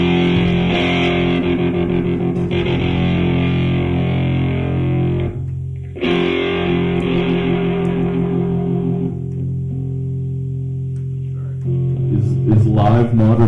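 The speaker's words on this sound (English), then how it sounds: "Is live modern enough that distortion's allowed?" Distorted electric guitar through an effects unit played live during a no-set-list request show, a loud sustained chordal wash with a brief dropout near six seconds and heavier strumming at the end.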